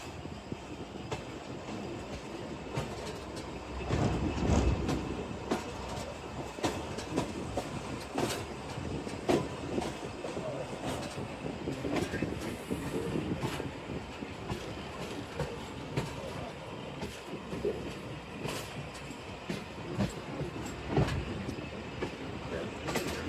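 The Shah Hussain Express passenger train runs along the main line, a steady rumble with rhythmic clickety-clack of wheels over rail joints, heard close from on board and continuous throughout.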